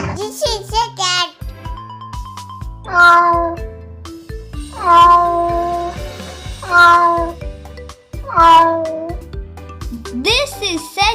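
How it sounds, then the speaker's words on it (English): A domestic cat meows several times in drawn-out, wavering cries, loud and close, with a voice speaking briefly at the start and end over light background music. "This is a cat."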